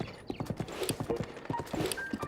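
Hooves clip-clop steadily as a horse is ridden in the Zelda: Breath of the Wild video game, a quick regular rhythm of close, crisp hoof beats over faint game ambience, with no voices present.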